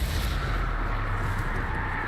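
Booming, blasting spell impacts from a Hogwarts Legacy duel, with Expelliarmus and Crucio being cast, roar as a dense, loud, continuous wash of noise with no voices.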